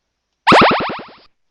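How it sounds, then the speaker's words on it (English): A loud alert notification tone from a mobile alert console app plays once, a quick series of bouncing, descending boing-like pulses lasting under a second, alone with no talk. "When the alert notification pops up, it will be accompanied by a loud noise."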